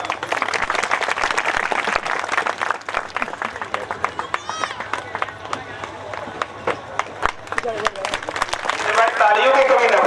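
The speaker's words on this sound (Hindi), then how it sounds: "तालियों की कमी न पड़े" An audience at a public welcome event in Sankisa, Uttar Pradesh, applauds, the clapping swelling louder toward the end, heard alongside someone speaking over a microphone.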